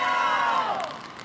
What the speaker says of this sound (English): You hear the crowd chanting, "We love you,"